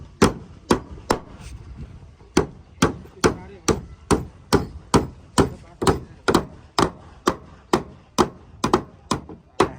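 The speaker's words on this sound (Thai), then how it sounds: "ตอนนี้กำลังซอยกันตอกแป้นมาเนาะ" Steady, forceful hammer blows drive nails into wooden planks over and over, about two per second, loud and close with short pauses between bursts, during outdoor bridge building in hot sun.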